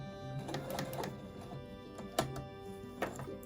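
A sewing machine back-stitches across an old kimono quilt top, with short bursts of rapid mechanical clatter and a few sharper clicks, close and moderately loud, between brief pauses.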